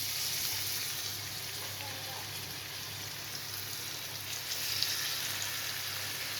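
Chopped onion frying in oil left from frying eggs, a soft continuous sizzle at moderate distance with a low background hum and no talking.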